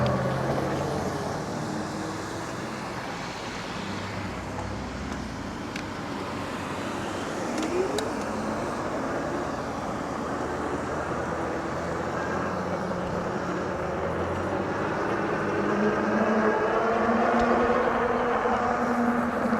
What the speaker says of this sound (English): It's a lot of cars out here